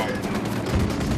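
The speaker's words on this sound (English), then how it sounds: "I'm opening fire." Gunfire in Ghost Recon Wildlands during an ambush, dense and continuous with overlapping shots and loud low booms, close up, with no clear gaps.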